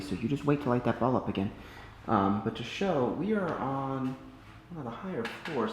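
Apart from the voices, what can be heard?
None of the usual background noises is heard.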